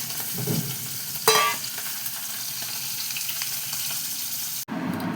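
Pieces of fish frying in a nonstick pan, a continuous close sizzle with a sharp spattering burst early on and a quieter steady hiss afterwards, no voices.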